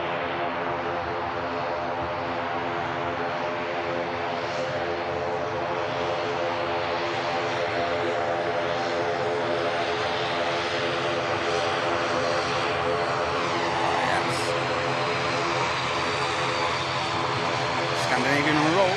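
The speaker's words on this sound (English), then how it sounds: "The ATR. Aircraft heading on the return to Dublin." An ATR turboprop airliner at Manchester Airport departing on the return to Dublin, its propeller engines producing a loud, sustained tonal drone throughout, with someone talking over the engines.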